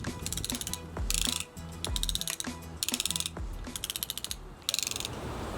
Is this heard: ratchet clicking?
yes